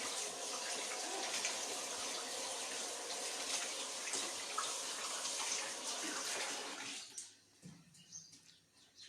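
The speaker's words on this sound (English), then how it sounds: "Just wash my hands." Hands washed under a running kitchen tap, a steady close gush of water that stops abruptly near the end, leaving faint room sounds and a small clink.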